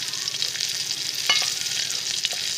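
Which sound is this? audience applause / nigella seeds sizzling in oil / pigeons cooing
nigella seeds sizzling in oil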